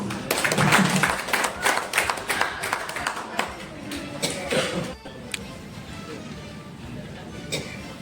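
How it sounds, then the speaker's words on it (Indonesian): Meeting audience applauds at a branch assembly, a burst of clapping that fades after about five seconds into quieter room noise with a few stray claps. "Tepuk tangan."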